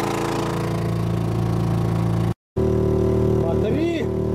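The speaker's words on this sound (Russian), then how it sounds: "Чтоб мотор не перегрелся на такой жаре." A small air-cooled engine runs steadily in hot weather with a buzzing, harmonic drone, briefly cutting out, then resuming as faint chirping tones rise above it.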